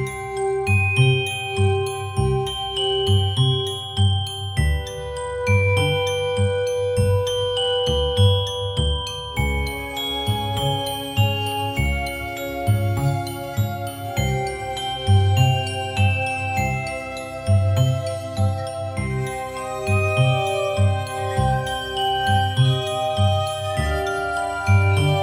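Glass harmonica playing a slow, ringing melody of clear, bell-like sustained tones over a low, steady accompaniment, continuous and fairly loud throughout with no voices.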